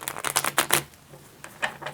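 Tarot cards being shuffled by hand, heard as several quick papery riffles in a burst, a short pause, then a couple more soft flicks, close and fairly quiet with no talking.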